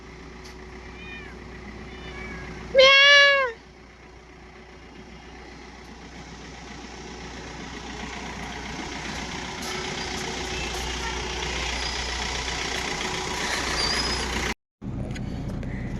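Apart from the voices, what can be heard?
cat meowing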